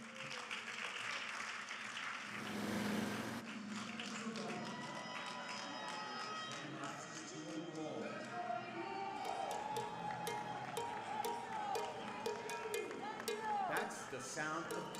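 Awards-ceremony audience at the New York Emmy Creative Arts Awards claps in a steady, moderately loud wash of applause, with a brief louder swell early on and some voices over it.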